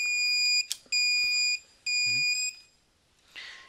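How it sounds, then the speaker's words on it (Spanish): A ZKTeco hotel door lock refuses to open and gives three long, shrill electronic beeps in a row, close and clear, with a brief soft rustle afterward. "esos bips indican que no te deja abrir"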